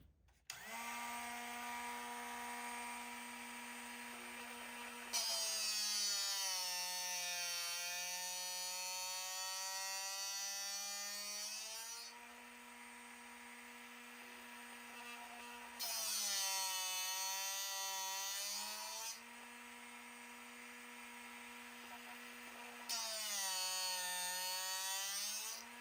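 A drill bit sharpening machine grinds a drill bit in repeated passes, each a steady high whining buzz with a rising and falling pitch, separated by quieter running between pushes; no talking.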